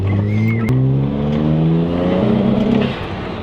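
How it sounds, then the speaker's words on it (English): A turbocharged BMW E93 engine accelerating hard, a loud, close, sustained drone climbing steadily in pitch through the gears with one brief shift break, heard alone without talk. "This thing moves, like, it's a turbocharged BMW"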